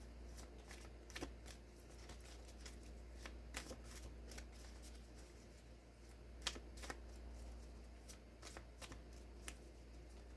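A tarot deck is shuffled in close, quiet repeated bursts of riffling and card slaps. Between them the cards rustle softly over a steady low hum, with no talking.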